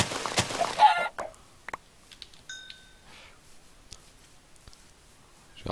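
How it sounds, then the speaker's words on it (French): Chicken clucks in a UHC match within a video game, with a loud burst of fowl calls at the start followed by a few sparse, fainter clucks and chirps. "Il y a trop de poulets ici."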